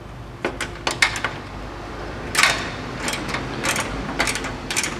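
A socket wrench with a swivel extension works a headlight bolt on a Dodge Dakota Sport, giving several short clicking ratchet bursts spaced irregularly, close and fairly loud.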